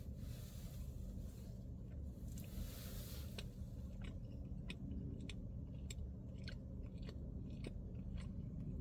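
Someone bites and chews a grilled cheese sandwich close to the mic, soft crunches and moist squishy mastication repeating at an irregular pace over a low, steady background hum.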